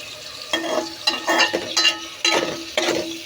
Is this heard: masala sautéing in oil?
yes